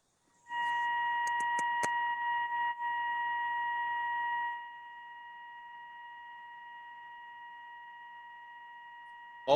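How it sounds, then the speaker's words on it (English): A steady electronic tone rings out, loud at first and then dropping to a quieter level that continues. A few clicks sound near the start. "All I got is like a ringing beep sound."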